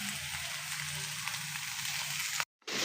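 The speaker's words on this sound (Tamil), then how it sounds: "நான் 2 முட்டை ஊற்றுறேன்." Eggs poured into a hot pan of frying prawns and cauliflower, giving a steady close sizzle and crackle throughout before a sudden brief cutout near the end.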